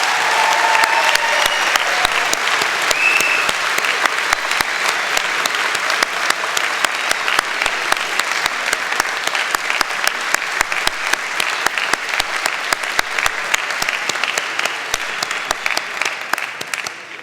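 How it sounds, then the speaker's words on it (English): Graduates at a spring convocation ceremony give family and friends a long, loud round of applause, a dense sustained clatter of many hands with sharp individual claps running throughout. "Graduates, a round of applause for family and friends."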